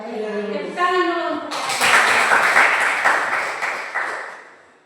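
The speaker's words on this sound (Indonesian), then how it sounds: "Tepuk tangan dulu." Children in a classroom clap their hands together in a loud, sustained burst of clapping that starts after a short stretch of talk, continues steadily for a few seconds, then fades out.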